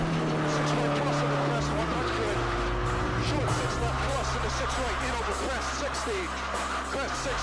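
A Subaru rally car from Team Subaru Canada roars across the finish line of a Canadian Rally Championship stage, its engine revving loud and close with a rising pass, while an announcer talks over it throughout.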